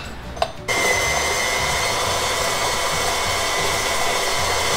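A steady electric mixer whirs loud and continuous as it creams butter and sugar, switching on sharply after a brief quiet moment with a single small click.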